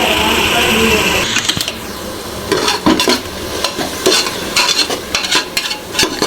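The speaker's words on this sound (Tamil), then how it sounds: "அரைச்சி வச்சுருந்த பேஸ்ட்டு நல்லா போட்டு வெங்காயத்துக்குள்ள நல்லா வதக்கிக்கலாம்" Ground masala paste being sautéed with onions in a pan for vegetable biryani: a steady frying sizzle, then repeated scraping stirs close by, with no talking.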